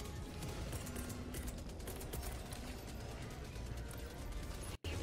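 Rapid mechanical bursts of heavy autocannon fire in Helldivers 2 repeat over a dense, noisy background, ending in a sudden short dropout.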